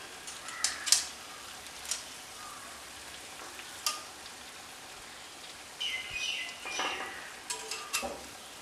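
Jackfruit unniyappam batter fries in hot oil with a soft, steady sizzle, scattered crackles and a few light utensil clinks.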